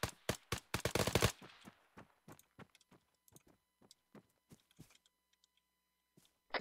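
In the Arma military sim, a rapid automatic burst fires tracer bullets, followed by scattered single shots and shorter volleys, some nearer and some distant, fading into sparse cracks with quiet gaps.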